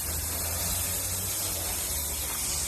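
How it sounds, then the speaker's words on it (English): Water sprays in a steady, continuous hiss against the underside of a Chevy truck frame, close and even throughout with no talking. "I'm just trying to clean the frame the best I can. Just let it spray up underneath."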